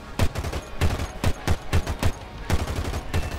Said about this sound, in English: I'm gonna unload all 500 cannons